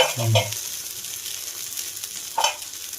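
Appe, the Maharashtrian breakfast dumplings, cook in oil in an appe pan on low heat with a steady soft sizzle, and a couple of brief clinks or scrapes come near the start and again toward the end.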